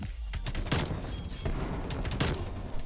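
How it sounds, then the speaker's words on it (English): Gunfire in Call of Duty: a rapid burst emptying a full magazine, loud cracking shots in dense clusters that carry on through the whole stretch. "I've never shot every bullet of my mag like that."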